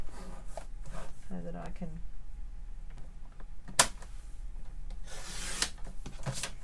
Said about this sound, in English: I'll have to cut that one in half, so I'll just do that on the trimmer for a second